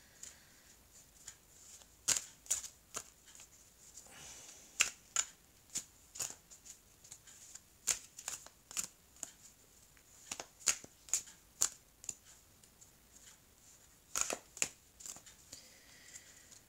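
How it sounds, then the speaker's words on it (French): Oracle cards are shuffled by hand close up, producing quiet, crisp riffling and slapping bursts in irregular groups with soft rustling between them. "Les cartes de l'oracle euro pour compléter ce tirage."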